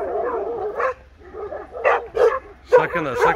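Shepherd dogs bark and whine in short, excited bursts nearby, with yelps and whimpers breaking up the sequence.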